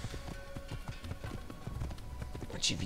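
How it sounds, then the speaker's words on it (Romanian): A horse gallops in the Assassin's Creed video game, its hooves beating a quick, steady clip-clop rhythm under faint background game sounds, ending with a brief bright accent. "Ce viteză am cu calul ăsta."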